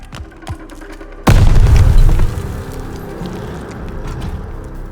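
A grenade goes off in the wartime shooter game Call of Duty Vanguard as one sudden loud boom, followed by a fading rumble and scattered debris.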